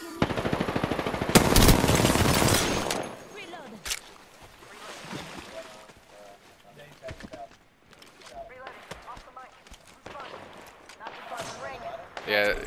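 Gunfire in an Apex Legends squad battle, a loud burst of automatic fire up front, then scattered distant shots and sporadic cracks with quieter gaps, alongside a player's voice talking.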